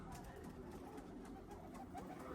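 Pigeons coo in a soft, continuous murmur from a flock settled near a tree, muffled and moderately distant, with faint background noise and no clear talking.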